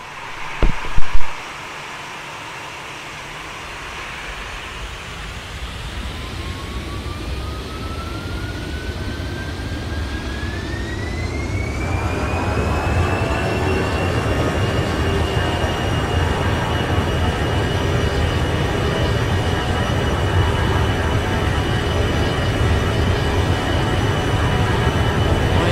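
An Airbus A320 with CFM56-5A engines spools up for takeoff in a flight simulator, heard from the tower: a steady, swelling roar with a rising turbine whine that settles into a sustained high tone.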